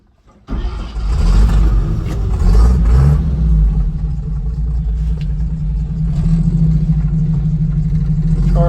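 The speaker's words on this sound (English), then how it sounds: "Turn ignition on." A 1954 Chevrolet 3100 half-ton pickup engine cranks briefly, catches and settles into a steady, close rumbling idle that continues loud and alone.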